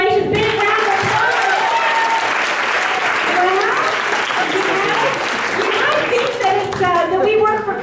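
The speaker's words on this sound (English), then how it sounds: "And congratulations, big round of applause." Steady audience applause at a talk or presentation, dense clapping that holds at a loud, even level throughout, with voices mixed in underneath.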